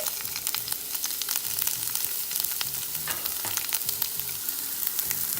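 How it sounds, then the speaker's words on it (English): Mushrooms and onion sauté in grapeseed oil with a loud, dense, crackling sizzle full of rapid pops, steady and close throughout. "now it's time for you to saute your mushrooms"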